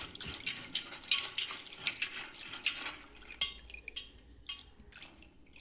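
Water poured over washed chana dal in a bowl while making puran poli for Holi, heard as quiet, irregular splashing and dripping close by, with no talking.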